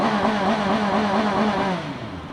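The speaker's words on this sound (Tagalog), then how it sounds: "Stock exhaust, boy." A CFMOTO 750SRS motorcycle on its stock exhaust revs with a steady, wavering engine drone that rises and falls slightly, then eases off and fades near the end, with no talking.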